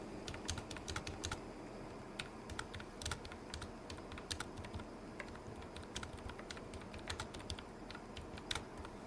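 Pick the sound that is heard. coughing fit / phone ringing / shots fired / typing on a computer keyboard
typing on a computer keyboard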